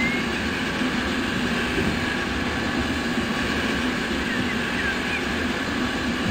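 An EN62 electric train runs steadily in the MaSzyna train simulator game, a continuous even rumble and rolling wheel noise, moderately loud and unbroken, with no talking.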